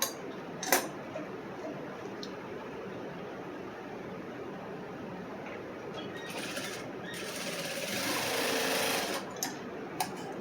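A sewing machine stitches a dart on a blouse, a rapid mechanical whir that speeds up toward the end, broken by a few sharp clicks and clinks near by, with no one talking.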